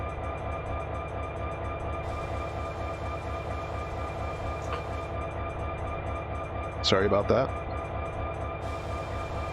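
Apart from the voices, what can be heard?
train passing in a train simulator video game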